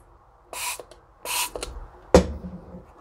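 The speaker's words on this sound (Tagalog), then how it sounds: "Then spray." Nimble Milk Buster bottle cleaner sprayed onto a milk bottle: two short hissing spray bursts, then a sharp click or knock of the bottle, close and clear with no talking.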